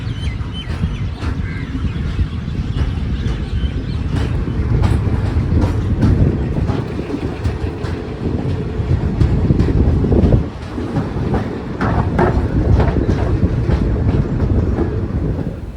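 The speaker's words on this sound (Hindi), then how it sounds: "एल्को लगा हुआ है सामने, मोस्ट प्रोबेबली जीओसी का है।" A passenger train on the Chennai to Rameshwaram route, hauled by an ALCO diesel locomotive, rolls along with a loud continuous rumble, steady clickety-clack of wheels over rail joints and buffeting wind noise.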